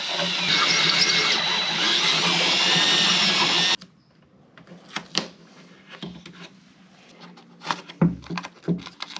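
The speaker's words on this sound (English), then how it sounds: "So I'll be drilling those out and putting nutserts in." Drill with a 7/16 bit boring out threaded holes on a Jeep cowl, a loud steady high whine lasting several seconds before stopping abruptly, then scattered quiet clicks, taps and handling noises.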